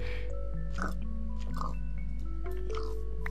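Pigs oink in the Minecraft video game, a few short grunts popping up at intervals over a steady game music backdrop with a loud low hum underneath.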